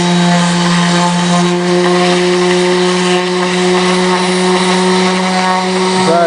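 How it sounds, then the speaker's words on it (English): Power sander running continuously over a wooden hanging plaque, a loud, close, steady droning whine with a strong tonal hum that holds throughout and dips briefly at the end. "run the sander over this"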